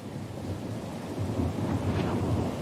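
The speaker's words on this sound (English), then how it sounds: "Oh, the storm's pretty loud." Thunderstorm with steady rain in the fantasy role-playing game Pillars of Eternity II: Deadfire, a continuous loud rumbling wash of rain and wind with a swelling thunder roll near the end, heard alone.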